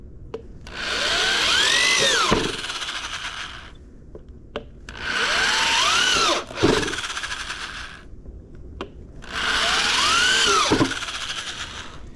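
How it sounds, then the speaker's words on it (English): A jigsaw cuts through a bow plate in three separate bursts of about two seconds each, a loud buzzing rasp close by with short quiet pauses and faint knocks between cuts. "hopefully the jigsaw will be good enough to just cut it out"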